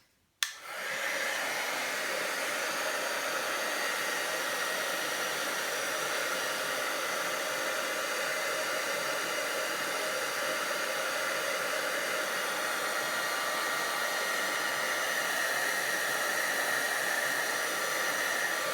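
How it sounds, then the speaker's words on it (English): Heat gun blowing steadily at close range for heat embossing on a stamped note card gift box, a continuous airy whoosh that starts abruptly and holds for the whole stretch with no talk. "we're going to heat emboss this too. Heat set that."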